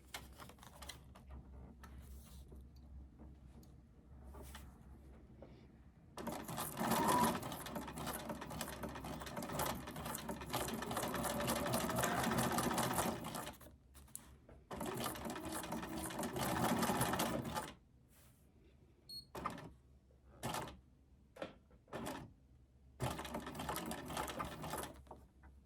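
A sewing machine stitches junk journal tags in several bursts, rapid clattering runs of varying length separated by pauses and short stop-start spurts, fairly close and moderately quiet.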